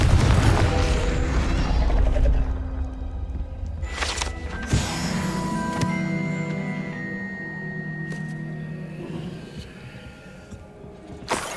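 A Confringo spell fires in Hogwarts Legacy, starting with a heavy low boom and followed by sharp crashing bursts around the middle, then ringing, tonal mechanical game sounds trailing off.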